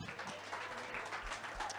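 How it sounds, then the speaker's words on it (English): A brief burst of audience applause at an entrepreneurs' chat event, faint and distant, with scattered clapping throughout the short stretch. "Give Nyeleti a round of applause"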